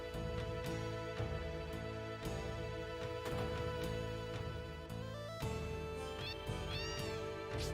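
A cat meows repeatedly in Final Fantasy VII, clear game sound effects over a steady, layered in-game music bed with no talk.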